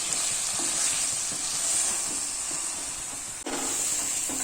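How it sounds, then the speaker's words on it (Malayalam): Masala is stirred into chicken pieces frying in a pan for an Eid-style chicken fry, giving a steady close sizzle and hiss broken by repeated scraping stir strokes and a sharp utensil knock near the end. "ഫ്ലെയിം ഒന്ന് കുറച്ച് വെച്ചതിന് ശേഷം മസാല ഇട്ടിട്ട് നന്നായിട്ട് മിക്സ് ചെയ്തെടുക്കാം"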